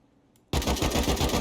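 An AK rifle with an extended magazine fires in the video game Rust: after a moment of near silence, a loud, rapid, sustained burst of automatic gunfire starts abruptly and continues to the end.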